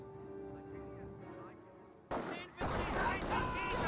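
Quiet battle ambience with a voice, then sudden loud bursts of gunfire erupt in a Company of Heroes fight, sharp crackling shots continuing to the end.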